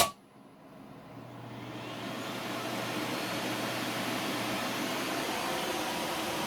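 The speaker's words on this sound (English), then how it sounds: "Go to inrush mode, starting vacuum cleaner" A vacuum cleaner powered from an inverter and server battery starts with a brief surge, then settles into a loud, steady whooshing motor roar with a low hum underneath that holds for several seconds.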